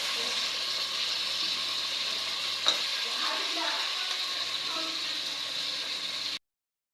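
Onion, beans and carrot sizzle steadily in a pan while being stirred for bisi bele bath, a continuous bright frying hiss with a single sharp clink from the utensil partway through, close and moderately quiet, before cutting off abruptly.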